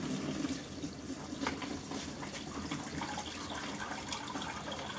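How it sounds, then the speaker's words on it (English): A machine's drain pump runs, pushing water out in a steady, continuous gushing flow, close and even throughout with no talk. "the pump has turned itself on. And basically, it is dumping water out of the machine"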